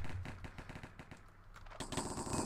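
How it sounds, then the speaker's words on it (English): Rapid automatic gunfire in the Minecraft Cops and Crims game, dense crackling bursts throughout that swell louder near the end, with no talk. "Oh, why are they shooting already?"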